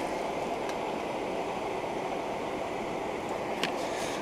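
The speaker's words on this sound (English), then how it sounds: "Might just put a bit more water in there." Water is poured into a pot on a camping gas stove, a continuous rushing wash over the burner's roar, with a couple of faint clinks along the way.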